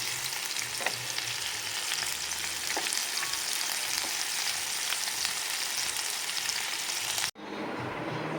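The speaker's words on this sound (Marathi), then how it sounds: "रेशाद मसाला लायन फ्राय करता हांव" Fish sizzles steadily in oil with Goan recheado masala over a wood fire, a dense, even frying hiss for about seven seconds before it cuts off abruptly into a quieter background.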